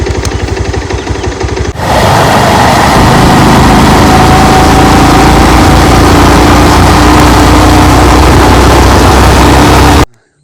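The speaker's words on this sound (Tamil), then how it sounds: "ஹெல்மெட்டு போட்டு சேஃபாக வண்டி விட்டுவோம்" A motorbike engine while riding, starting with a rapid chugging putter that gives way to a loud, steady engine drone mixed with wind rush, close and constant until it cuts off abruptly near the end.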